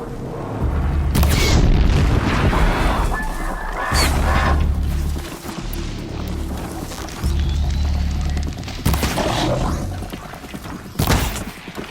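Battle in Horizon Zero Dawn with repeated heavy booming explosions and bursts of gunfire over a rumbling background, loud and close, several sharp blasts spread across the passage, with no talk.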